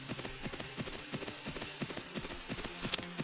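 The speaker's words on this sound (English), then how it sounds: "let's use a horse" Horse hooves clip-clop in a steady, close, fairly loud rhythm as a mount travels in the Mabinogi video game, with no talk over the gait.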